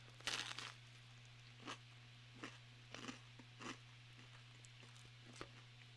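Crunchy bites into crisp French bread pizza, a loud snap followed by several sharper crackling crunches spaced out over a few seconds, close up and otherwise quiet.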